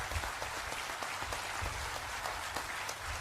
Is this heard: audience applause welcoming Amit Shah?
yes